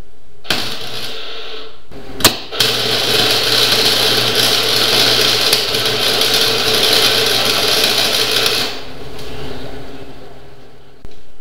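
Tack welding a trans-axle gear to lock it: a loud, close, continuous crackling buzz of the welding arc lasting several seconds, set off by a sharp click beforehand, with no talking.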